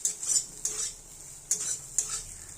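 Soybean chunks frying in a pan as they are stirred, a continuous sizzle under repeated metal utensil scrapes and clinks against the pan, close by.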